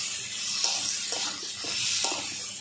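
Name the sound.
spices being sautéed in a pan for fish curry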